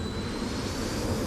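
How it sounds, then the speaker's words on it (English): A big jet's engine roars from Microsoft Flight Simulator, a steady broadband rumble with a thin high whine held throughout and no talking. "I hear a big jet there somewhere."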